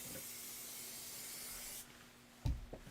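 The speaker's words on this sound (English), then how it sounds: "I spray these a little heavier than I spray the other ones" Spray adhesive is sprayed onto fabric pieces for a quilted table topper, one long steady hiss lasting almost two seconds and then cutting off, followed by a soft thump and light handling.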